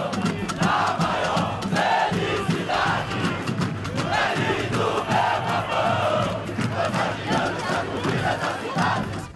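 Football crowd in the stands at Curuzu stadium, a dense mass of fans shouting and chanting loudly and continuously, voices surging in waves with no break.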